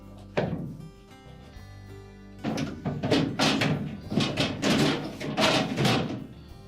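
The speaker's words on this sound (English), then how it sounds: "We can then put the crisper drawer back in." Frigidaire refrigerator crisper drawer pushed back into its slides, giving an isolated thunk and then a run of close, rapid plastic rattles and knocks as the pan settles into place.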